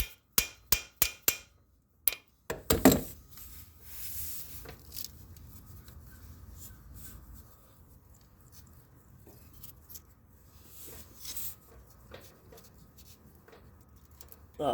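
A handful of sharp, evenly spaced knocks ring out, a makeshift hammer tapping on metal during an oil and filter change on a 2019 Honda Pioneer 500, followed by quiet scraping and rubbing with occasional soft clicks.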